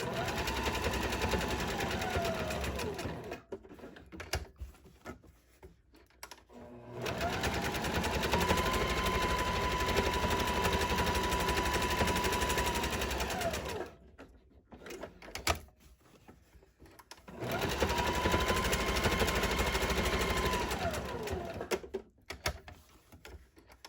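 A sewing machine stitches placemat pieces at about a 2.5 stitch length in three long steady runs of rapid mechanical whirring, each separated by pauses with small handling clicks and fabric shuffling.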